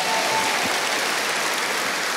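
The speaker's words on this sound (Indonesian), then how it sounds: "Berikan tepuk tangan yang meriah" A church congregation gives a loud, sustained round of applause during a sermon, dense steady clapping filling the space from start to finish.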